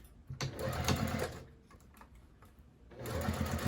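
A sewing machine stitches a visible exterior seam on a fabric bin, running loudly in two bursts with a brief slowdown and quieter stretch between them, close by and with no talk.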